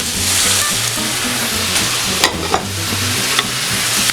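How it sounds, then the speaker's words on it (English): Chopped tomatoes stirred into a pan of paella rice frying over heat, a steady loud sizzle with scraping stir strokes and a few sharper clicks of the utensil, no voices. "Let's add our chopped tomatoes."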